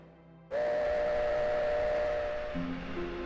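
A train whistle blasts loud and sustained in the Final Fantasy VII video game, starting abruptly after a low hum and holding for nearly three seconds before a second, lower tone joins near the end.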